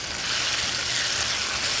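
Onions browning in a pan, heard as a dense, loud, even sizzle close by that holds steady without a break.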